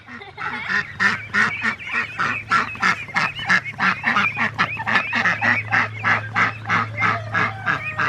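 A flock of geese honks continuously in a rapid, busy chorus of overlapping calls, close and fairly loud, with no talking.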